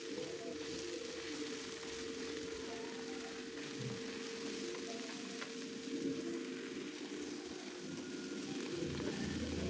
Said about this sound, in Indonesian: Kita goreng ya, kita aduk terus sampai jamurnya matang.